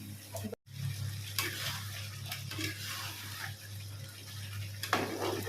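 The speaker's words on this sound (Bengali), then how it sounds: "তেলের মধ্যে একটু গোটা গরম মশলা ফোড়ন দেওয়া হচ্ছে" Whole garam masala spices, including cloves, temper in hot oil with a quiet, crackly sizzle and a few brighter spits over a low steady hum.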